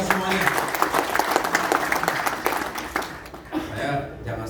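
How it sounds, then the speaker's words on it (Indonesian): Audience applause at an Indonesian Democrat party gathering for the IMDI congress, a loud continuous burst of many hands with crowd murmur and voices mixed in, thinning toward the end. "Tepuk tangan untuk kita semuanya."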